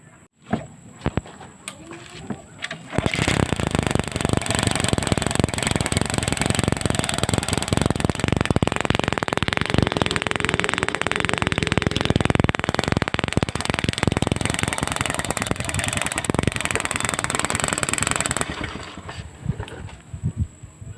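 A Rusi MP Y 125 motorcycle engine starts up and runs steadily and loudly at close range for about fifteen seconds, then cuts off.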